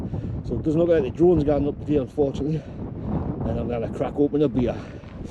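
Wind gusts across an exposed fell-top on Rannerdale Knotts at night, buffeting the microphone in a low, fluctuating roar beneath someone talking throughout.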